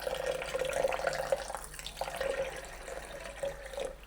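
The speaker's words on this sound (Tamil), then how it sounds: "வாங்க கொஞ்சமாக தண்ணி விட்டுக்கொள்ளுவோம்." Water trickles steadily for a few seconds as it is poured into a homemade summer drink, a thin, continuous splashing stream with small bursts, no talking.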